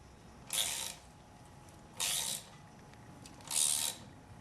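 A pulley puller is ratcheted tight on the crank pulley bolt of a Nissan SR20DET engine during a 240SX swap, giving three evenly spaced bursts of rapid, close metallic clicking, each about half a second, with quiet pauses between and no talk.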